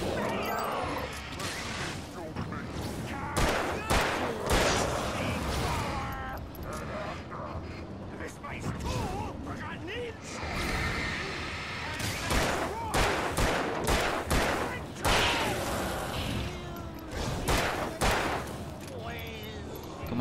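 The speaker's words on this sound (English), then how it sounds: "I'm gonna use my flare gun against Stucky up there." Gunfire and flare-gun shots against enemies in the video game Alan Wake, with repeated loud blasts and crashes spread throughout alongside ongoing game noise and a voice talking.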